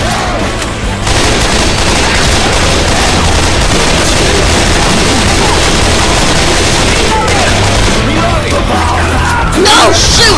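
Rapid gunfire from the zombie video game Left 4 Dead 2 fills the scene with dense bursts and booming shots, loud and continuous, with shouting voices over it.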